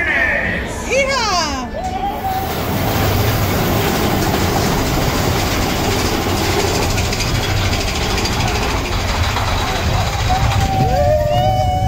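Mine train roller coaster at a Disney theme park rolling along its track with steady, loud rumbling and rattling throughout, a brief voice at the start and faint rider chatter mixed in.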